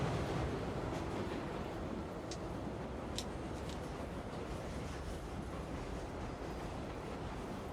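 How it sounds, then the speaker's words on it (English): Steady rumble and rattle of a train carriage rolling through darkness in the Tsukihime remake game, a constant low roar with a few faint metallic creaks and squeaks, no voices. "the train makes its way through the darkness. The car creaks around me."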